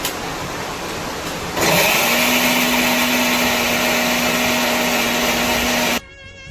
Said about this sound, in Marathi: तर आता मिक्सरमध्ये वाटणार आहोत